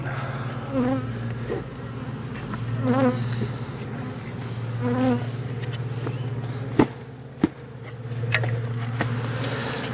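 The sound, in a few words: honey bees buzzing being shaken in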